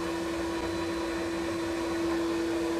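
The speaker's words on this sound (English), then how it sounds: "We'll leave the vacuum running here for a minute so it draws all of that dust right into the vacuum instead of out into the shop" A shop vacuum runs steadily, drawing dust out of an RE70 sandblasting cabinet in a shop, a constant loud motor whine and airflow roar with no break.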